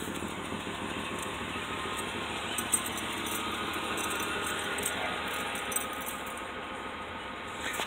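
A 2000s Dodge or Chrysler minivan engine idles steadily and loudly, running rough with an uneven throb throughout and a few faint clicks; the engine light is on.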